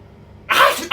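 A single short, sharp burst from a person, a sneeze and cough blended into one sound, loud and close after a moment of near silence.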